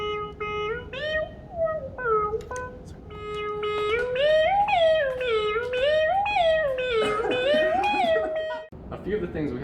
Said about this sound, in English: We've also built in an arpeggiator,